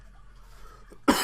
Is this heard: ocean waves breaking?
no